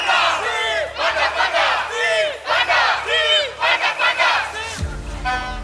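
A film-scene protest crowd, a large group of extras shouting and chanting in repeated surging bursts over a low rhythmic background hum, loud and close, with the crowd cutting off abruptly near the end into a low rumble.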